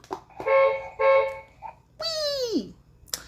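Two short bursts of a bright, harmonic beep-like tone, followed by a longer falling, swooping squeal, all fairly loud and close during a birthday scratch-card session, with no one talking over it.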